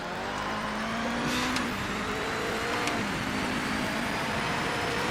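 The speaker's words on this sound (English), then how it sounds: "I am in the Audi LMP." Audi LMP race car engine in a racing video game, a steady, loud, continuous drone with faint tonal lines shifting slightly in pitch, heard alone without talk.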